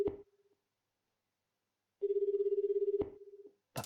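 Telephone ringing in the PlayStation game Persona 2: Innocent Sin, a steady electronic tone in two bursts, a short one at the start and a longer pulsing ring later, with clicks around the second burst and silence in between.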